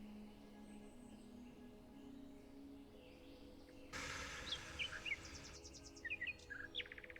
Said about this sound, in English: Listen to the ocean, listen to the birds.